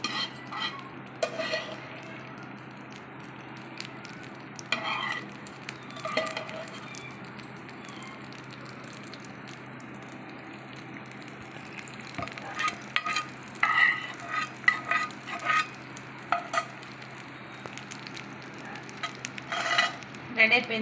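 Dry fruits are stirred into bellam paramannam, a jaggery rice pudding, in a pan: a faint simmering hiss underlies bursts of spoon scraping and clinking against the metal, near and without talking.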